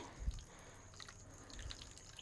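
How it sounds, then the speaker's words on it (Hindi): Hot water poured over a stuck jar lid gives faint, scattered drips and light splashes against a quiet room, with no talking. "गरम पानी ऐसे डालें"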